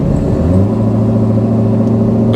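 Katech C7 Z06 car engine revving close up, a loud sustained rumbling tone that rises in pitch as it accelerates, with no voices.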